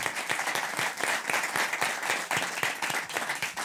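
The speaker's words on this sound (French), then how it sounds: "Il s'appelle Alain Robert, on peut l'applaudir et l'encourager" A studio audience on a French talk show applauds to welcome guest Alain Robert: dense, sustained clapping from many hands at close range, steady throughout with no voices over it.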